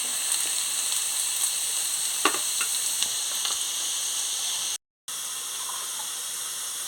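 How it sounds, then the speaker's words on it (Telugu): Dry anchovy fish frying in a non-stick pan, a steady broadband sizzle and crackle with a few sharper pops, close and continuous apart from a brief cut to silence near the end. "ఫ్రై అవుతూనే ఉన్నాయి."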